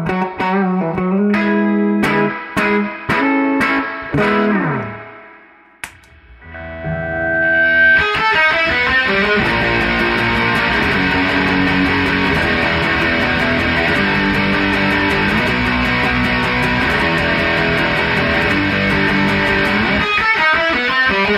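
A Gibson SG electric guitar rings out through a Crazy Tube Circuits Black Magic distortion pedal, a few picked chords fading out, then a thick, sustained distorted riff played loud and continuous.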